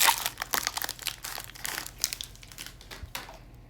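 Rapid crinkly rustling and flicking of stiff Panini football trading cards being shuffled, close up, with bursts of papery snaps and no talking.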